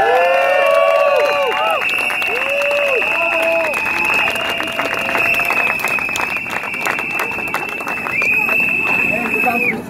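A large crowd at an outdoor demonstration in Erlangen clapping and cheering loudly and continuously, with shrill whistles and shouted voices rising above the applause.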